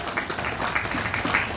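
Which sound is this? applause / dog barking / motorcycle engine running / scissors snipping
applause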